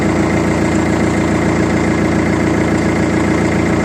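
A hydraulic machine's engine idles loud and close, a steady low rumbling drone with constant vibration and no pauses.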